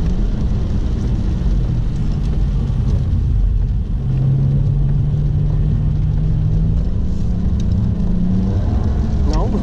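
Stock BMW 135i without a limited-slip differential, engine droning loud and steady under throttle while drifting, a low continuous rumble with a rising tone partway through and faint talk beneath.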